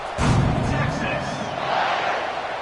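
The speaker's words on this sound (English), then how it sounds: "this crowd now ready to get behind them" A football stadium crowd roars loudly just before the kickoff, a sudden swell of cheering and shouting that then settles into a sustained, distant-sounding rumble.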